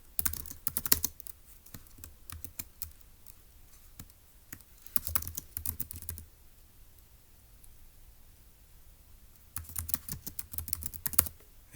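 Computer keyboard typing in quick bursts of clicking keystrokes, close and clear, with a long quiet pause in the middle before a final flurry of keys.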